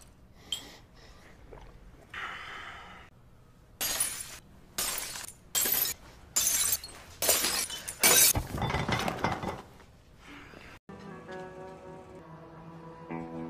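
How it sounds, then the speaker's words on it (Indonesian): In a film scene, a glass drink bottle is smashed over a man's head, with a run of sharp, loud shattering bursts in quick succession and tinkling fragments, then quieter movement and breathing afterward. "si ular menghantam kepalanya menggunakan botol minuman"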